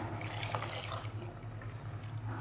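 Water used to rinse a grinding stone splashes and trickles into a pot of dal curry for a couple of seconds, a close liquid pour over a low steady hum.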